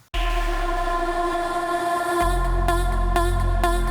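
A reversed sound effect in an electronic dance music production, a sustained swelling tone over deep bass that shifts midway as a low thump enters, followed by a few sharp hits near the end.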